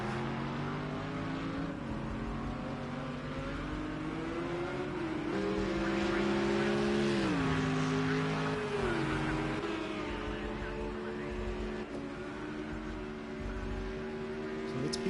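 A GT3 race car at Spa in a racing game gives a steady engine drone whose pitch climbs and dips through gear changes and braking into the chicane, heard continuously and fairly close.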